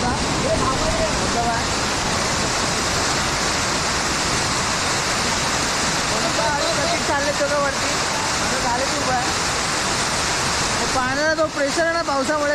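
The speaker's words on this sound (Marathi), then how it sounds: "तो धबधबा किती मस्त वाटतंय" A waterfall swollen with rainwater roars loud and steady at close range, a constant broad rush of falling water, while people talk over it.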